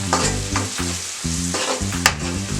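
A spoon stirs onions frying in a pan, its scraping strokes coming in rhythmic bursts over a steady close sizzle, with no voices.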